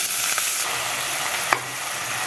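Red amaranth leaves sizzle steadily in hot oil with cumin seeds, chopped garlic and green chilies. The hiss is loud and close, with a couple of soft knocks from the pan.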